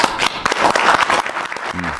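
Loud, dense applause from an audience at a bill signing, with brief voices mixed in and a low hum near the end.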